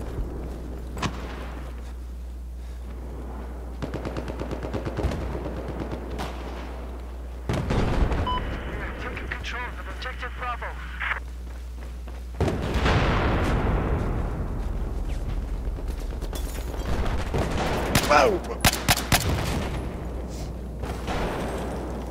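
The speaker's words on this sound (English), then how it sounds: "Who is shooting at me?" Battlefield 4 video game combat with sustained gunfire and heavy explosive bursts, dense and continuous over a constant low hum, with louder blasts partway through.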